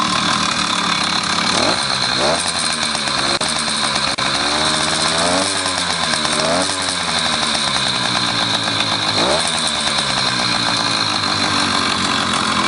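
A Grubee Skyhawk 66cc two-stroke motorized bike engine idles loudly and continuously, with a few brief revs and sputters rising and falling in pitch throughout.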